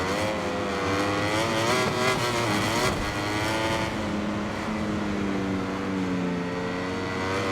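A Ducati racing motorcycle in MotoGP 21, its engine screaming high and loud as it revs up, shifts, and climbs again through gears, alone with no talking.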